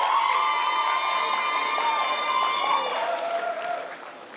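A middle school graduation audience cheering, whooping and clapping for the graduates, a lively crowd roar with high shouts that holds steady and then tapers off.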